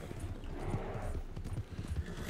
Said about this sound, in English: Don't go off the track, you silly horse. Just gallop.